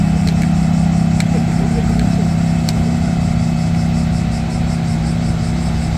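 Ferrari 430 idling at an imported-car meeting in Nagoya, a steady low engine hum with faint harmonic tones running throughout, while people talk nearby over the murmur of the crowd.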